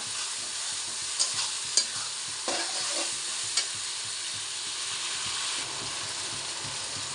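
Mutton sizzles in hot oil with spices in a home kitchen, a steady, close frying hiss broken by a few sharp scrapes and clinks of a stirring utensil, with no talking.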